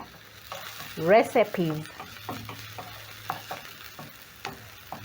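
Onion frying in a pan, a soft sizzle running under clinking and scraping as a utensil stirs against the pan, with a few louder knocks near the start.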